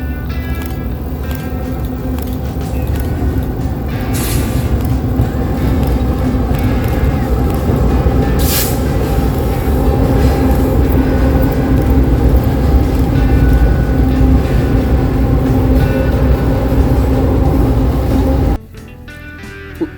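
A CSX freight train, B650, rolls across the massive Shelby trestle, a loud, continuous rumble and clatter of wheels that holds steady for most of the clip, then cuts off abruptly near the end.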